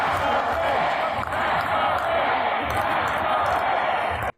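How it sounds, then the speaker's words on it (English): A big crowd at a packed New York City political rally chants a rhythmic slogan in unison, a loud, dense, continuous roar of voices that holds steady before cutting off abruptly. "what the crowd is saying here is tax the rich, tax the rich, tax the rich"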